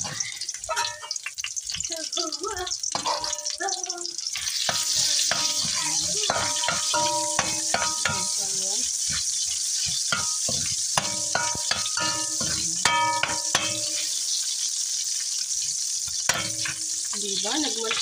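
Garlic toasts in hot oil for a pansit palabok topping, a continuous hiss and crackle running under frequent speech from a person talking throughout, with occasional stirring knocks.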